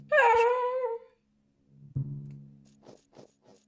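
A dog in the horror game Fear & Hunger lets out a loud, high whimpering whine for nearly a second, followed after a pause by softer low rumbling and a few short faint yelps.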